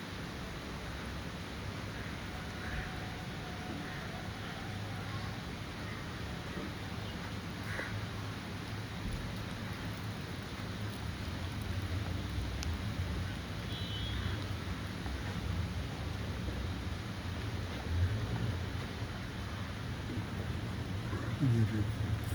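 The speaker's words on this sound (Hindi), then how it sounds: "ज़बरदस्त बारिश हो रही है इस वक्त" Heavy rain pours down all around in a steady, dense hiss that swells slightly over time, with a person talking over it.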